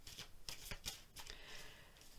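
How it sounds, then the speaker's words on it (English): Tarot cards being shuffled by hand, a quiet run of soft riffling and slapping bursts in an irregular rhythm, faint and close. "So let me take a look at these as I'm shuffling the tarot."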